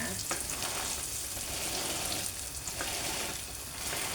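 Thai-style omelette (khai jiao) sizzling steadily in hot oil in a pan, a broad continuous crackle with light bursts of frying as the thick egg is poked through, no voices.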